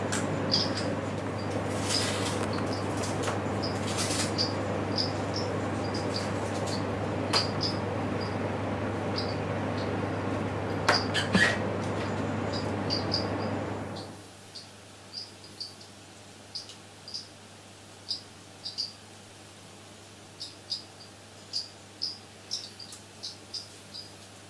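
Golden mantella frogs call in a steady series of short, high chirps, first masked by a loud hum and background noise, then standing out clearly as evenly spaced clicks once the noise drops away.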